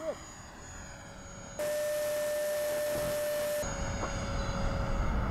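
An E-flite Viper 70mm electric ducted-fan RC jet whines with a steady high tone that swells sharply louder for a couple of seconds as it passes close, then settles back to a sustained hum.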